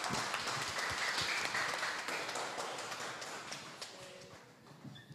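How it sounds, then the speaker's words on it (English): Applause from the audience at a hybrid MICE trends webinar, a dense spread of clapping that runs the whole time and slowly fades, with scattered sharper claps near the end. "A round of applause, everyone."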